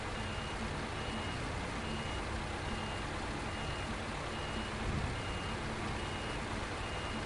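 Heavy truck engine rumbling steadily while reversing a trailer in SnowRunner, a constant loud drone with a reversing beep faintly woven in and no talking.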